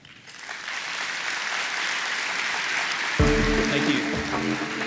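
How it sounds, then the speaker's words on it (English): A conference crowd at an HR technology event breaks into applause that swells quickly and holds steady as a broad clapping wash, with a brief musical sting and voice-like tones entering partway through. "please welcome to the stage and a warm round of applause to David Crumley."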